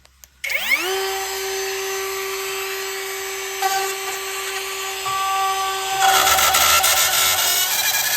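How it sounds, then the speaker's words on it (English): A Milwaukee-battery ECARKE cordless cut-out tool spins up with a rising whine, then holds a steady high-pitched drone while cutting a hole for an electrical box. The pitch shifts slightly near the end as it bites harder, loud and close, with no talking. "this Milwaukee powered cordless cutout tool"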